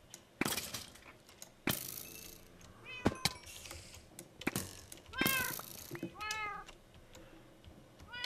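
Several Minecraft cats meow in short, high, repeated calls over a quiet background, with scattered clicks and thuds from play in a modded world.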